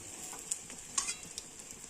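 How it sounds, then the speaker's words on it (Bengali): An egg fries in a pan as a soft, faint sizzle with a few small crackling pops and spatters scattered through it, and no voices. "ডিম ভেজে নিচ্ছি, কারণ ডালিয়াটা তো আর শুধু খাওয়া যায় না, তাই একটা ডিম আমি ভেজে নিচ্ছি।"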